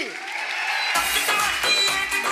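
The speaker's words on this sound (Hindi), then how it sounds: "इनके लिए जोरदार तालियां बनती कि नहीं बनती?" An audience at a Safe Shop event bursts into sustained applause after a sudden start, with steady clapping that fills the room.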